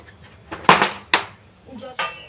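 Food in a cooking pot is stirred with a spoon, giving a few short metallic scraping clatters close by, spaced irregularly.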